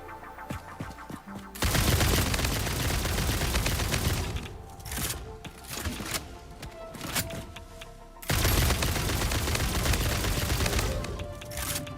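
Bursts of rapid gunfire in the video game Satisfactory hammer away at an enemy, two long loud volleys separated by a quieter stretch of game noise.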